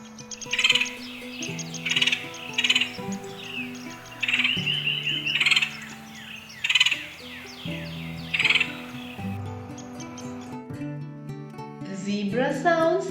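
Woodpecker calls ring out in short repeated bursts over a melodic musical backing, the sharp chirping notes recurring at regular intervals and fairly loud.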